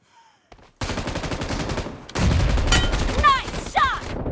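Rapid bursts of gunfire in the mobile battle royale game PUBG, played on a Motorola G60 phone, loud and dense from about the first second onward, with sharp shots and whizzing ricochet-like sweeps near the end.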